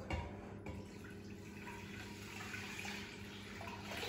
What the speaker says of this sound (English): In the pot I am going to be adding my coconut milk.